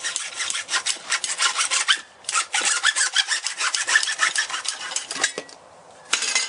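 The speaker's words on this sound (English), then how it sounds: "We're going to go ahead and cut this piece of PVC. The secret to cutting PVC basically is that you just need a really good hacksaw." A hacksaw cuts through PVC pipe in fast back-and-forth strokes, a close, loud rasping rhythm that pauses briefly twice, with no talking.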